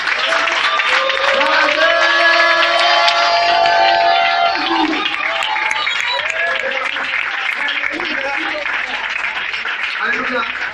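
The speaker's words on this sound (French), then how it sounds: "On donne une forte acclamation au Seigneur." A church congregation cheers and applauds loudly in praise, dense clapping mixed with shouts and high voices, a leader's voice carrying over the crowd, easing slightly toward the end.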